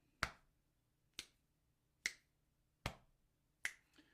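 Five crisp finger snaps sound alone at an even, unhurried pace, each a sharp close click that dies away quickly in an otherwise quiet room.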